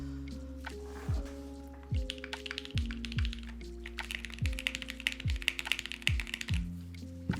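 Keystrokes clatter on a mechanical keyboard fitted with long-pole Vint black switches, a quick sequence of crisp clacks with deep thocky bottom-outs, close and fairly quiet, with no voices.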